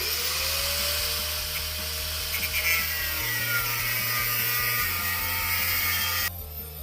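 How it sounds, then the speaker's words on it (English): A flapper sanding wheel grinds against the legs of a new cast iron dutch oven, a loud continuous whine with a shifting low motor drone, cutting off abruptly near the end. "Flapper sanding wheel, using that because it don't tend to gouge"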